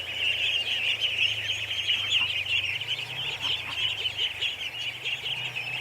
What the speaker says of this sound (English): more are starting to make that immature quack sound